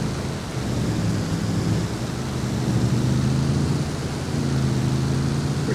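Thunderstorm with steady rain in the farming game Farming Simulator 22, a continuous loud wash of rainfall with low rumbling thunder rolling underneath throughout, no talking.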